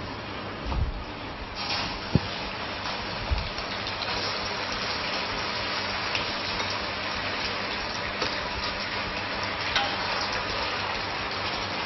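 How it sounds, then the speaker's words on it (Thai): Chicken pieces fry in a small pan, giving a continuous, even sizzle with occasional soft clinks and stirring knocks, heard close with no voices. "ไก่นี้ก็ทอดไม่นานนะคะเพราะจะสุกง่ายค่ะ"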